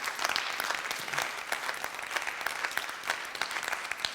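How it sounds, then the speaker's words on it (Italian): A theatre audience applauds, with dense, continuous clapping from many hands that fills the hall at an even loudness throughout. "va l'applauso più grande che possiamo fare"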